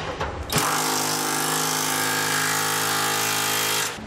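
A power tool tightens the two nuts on the rear brace of a B&W Companion fifth-wheel trailer hitch underbed kit, a loud steady whir with a strong tonal hum lasting several seconds before cutting off abruptly.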